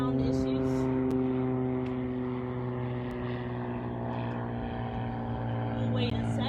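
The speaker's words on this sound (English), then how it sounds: "There's a plane going over" A propeller airplane drones steadily overhead at Hunting Island State Park, a loud, continuous engine hum with a strong low tone, while a person talks intermittently over it outdoors.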